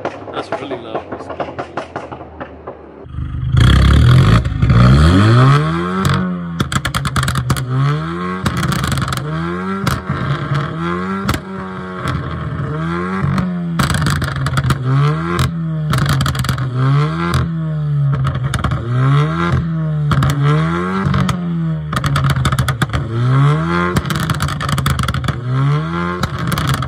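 Loud, close revving from an Alfa Romeo Giulia engine pushed high over and over, a regular series of sharp rising-and-falling pulls above a rough idle after a quieter start.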